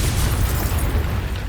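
A Confringo blasting spell exploding in the Hogwarts Legacy video game, a short heavy boom with a crackling burst that fills the whole moment and rolls away quickly.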